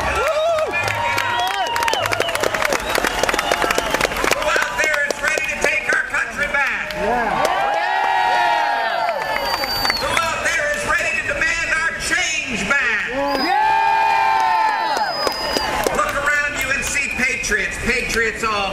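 A large outdoor crowd at the 9/12 March on DC rally cheers and claps loudly throughout, swelling in waves, with a speaker's amplified voice echoing over the noise.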